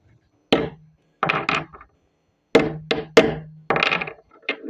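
Several hard knocks of a mallet striking a wooden part of a toy car, struck singly and in quick pairs with short pauses between.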